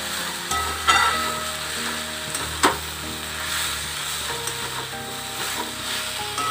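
Drumstick flowers and crushed peanuts are stir-fried in a pan, giving a steady soft sizzle with occasional sharp clinks and scrapes from stirring, no voices.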